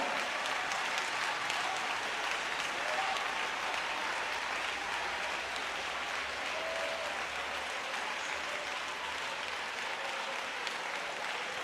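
Congregation applauding during a sermon, dense sustained clapping from many people that holds evenly loud and continuous for the whole stretch, with no break and no speech.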